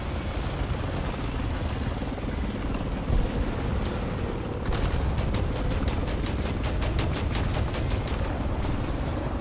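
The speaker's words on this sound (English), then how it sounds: "Oh, that's a heli." A helicopter in the War Thunder video game thrums as a steady low rotor drone, joined midway by a fast run of sharp cracking bursts like gunfire, fairly loud with no talk.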